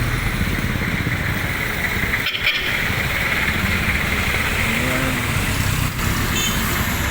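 Dense, continuous highway traffic rumble with engines droning steadily and close, one brief louder whoosh of a passing vehicle midway, no clear talk.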